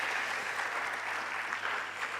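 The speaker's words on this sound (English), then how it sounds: "I think we should give them a round of applause." An audience at an event celebrating 50 years of dialysis in Ghana gives a round of applause, thick continuous clapping at steady volume from start to finish.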